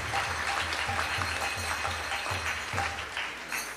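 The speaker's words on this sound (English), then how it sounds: "we want to thank the cooks and the whole entire team with a round of applause as well" Audience at a Sunday program applauding the cooks and the whole team, a sustained round of clapping from a crowd, moderately loud and even, with some deeper rhythmic thumps underneath.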